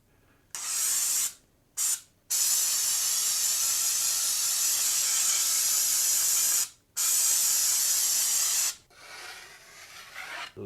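Canned spackling hisses loudly from an aerosol can onto drywall in long sustained sprays, briefly interrupted by short pauses.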